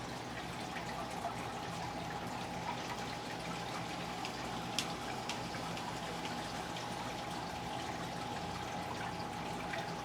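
Water moving inside an aquarium, stirred by a Hygger DC Pro wavemaker. A faint, steady wash and trickle with light dripping runs throughout, quiet and even.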